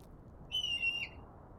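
A single short, high-pitched, whistle-like bird call from a randomized sound-effect playlist sounds once, clear and isolated over a faint steady hiss.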